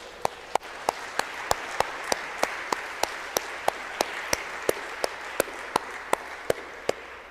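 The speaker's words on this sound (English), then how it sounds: "Should we clap for Jesus and Mary?" A single pair of hands claps in a steady, even rhythm, about twenty sharp claps over a low room hiss, as a church congregation is led in clapping.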